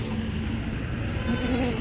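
Kathiawari goats bleat at close range, with a couple of wavering calls standing out over a dense, noisy farmyard background.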